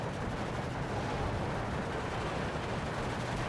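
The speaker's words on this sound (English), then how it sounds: "Bombs coming in on him." Bombs exploding in Steel Division 2, a dense, continuous rumbling barrage of distant blasts and crackling fire, steady and fairly faint with no voices.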